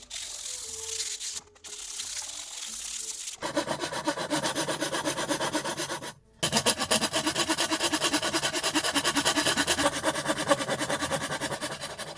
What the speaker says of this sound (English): And then of course a bit of hand sanding.